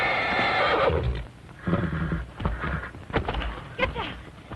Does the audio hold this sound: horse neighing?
yes